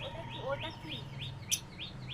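Lovebirds chirp repeatedly at a steady rhythm, bright short calls close by, with a sharp higher squeak partway through and a low background hum.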